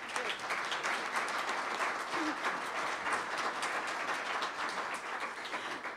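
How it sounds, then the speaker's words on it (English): Steady applause from a crowd at a business community legislative breakfast fills the whole stretch, a dense, even patter of clapping without pauses. "Please join me in a round of applause for our guests."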